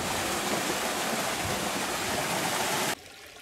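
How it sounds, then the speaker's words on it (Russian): A small mountain stream near Panagia lake in Crimea rushes steadily and close, a dense even wash of flowing water that cuts off abruptly near the end. "Дальше, если подняться, вот такой ручеек уже остается."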